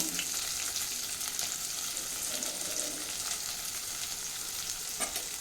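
Chopped onion frying in a pan with oil, a steady close crackling sizzle throughout with occasional stirring scrapes.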